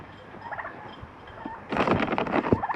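Turkey gobbling outdoors at Christmas feeding time: after a quieter start with a few soft calls, a loud, rapid, rattling gobble bursts in and fills the last second.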